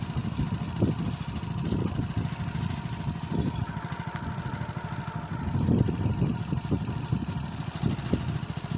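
A motorcycle engine running while being ridden on a village road in Bagerhat, a steady, close, low throbbing drone with slight rises and dips in revs and no talk.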